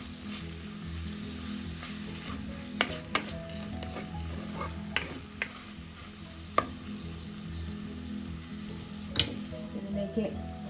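Masala with garlic fries in oil for a spicy sole fish curry, a soft continuous sizzle punctuated by a few sharp spatula taps and scrapes against the pan.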